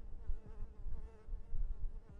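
Flies buzz around a car in the video game GTA 5, a close, wavering insect drone that rises and falls in loudness over a couple of seconds, with no one speaking.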